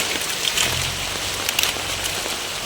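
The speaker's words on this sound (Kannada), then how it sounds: "ಮಳೆನೇ ಬಂತು ದಬ ದಬ ದಬ ಅಂತ." Heavy rain pouring in a village, a dense close patter of drops drumming on surfaces with a few louder splashes, no voices.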